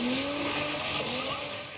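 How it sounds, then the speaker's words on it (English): Ford Mustang drag car surging down a drag strip on boost cut, a loud, steady engine roar with rising pitch that fades slightly as it moves away, over a brief stretch. "So the clip that we've all just watched together is the Mustang going down the track."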